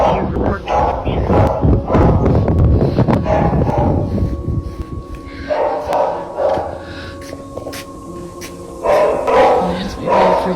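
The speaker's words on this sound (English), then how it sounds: "You can literally hear her barking from here." A dog barks repeatedly in sharp bursts from upstairs, muffled and somewhat distant, amid bumping and clattering noises; the barking fades in and out.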